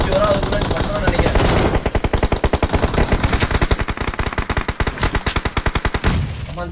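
Rapid automatic gunfire from the mobile shooter BGMI rattles in a long, loud, steady burst of closely spaced shots, then stops abruptly at the end.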